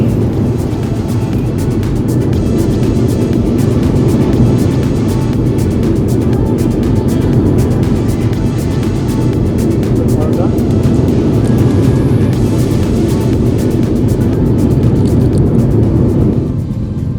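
Inside the cabin of a Qatar Airways airliner taking off for Kolkata, a loud, steady engine roar fills the whole clip with constant broadband rumble.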